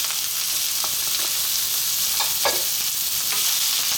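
Chicken with mushrooms and carrots sizzles steadily in a pan for a Filipino chicken vegetable stir fry, with a few scraping stirs of a utensil rising over the constant frying hiss.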